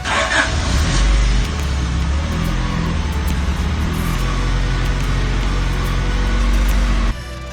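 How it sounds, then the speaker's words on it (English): A Honda Prelude engine under restoration starts with brake cleaner sprayed into the intake, giving a loud, rough running rumble that holds steady for several seconds and then cuts off. "To test, I actually managed to get the car to start, with brake cleaner in the intake."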